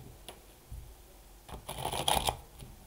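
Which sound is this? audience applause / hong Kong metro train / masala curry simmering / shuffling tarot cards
shuffling tarot cards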